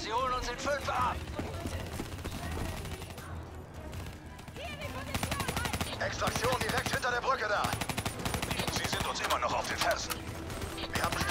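Rapid automatic gunfire from Call of Duty Black Ops 3 co-op play rattles in dense, repeated bursts through the scene, steady and mid-distance, with players talking over the shooting.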